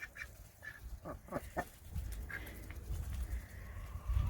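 Runner ducks, five laying females and a black male, quack nearby while eating greens: a cluster of short nasal calls early on, then fainter scattered quacks over outdoor background rumble.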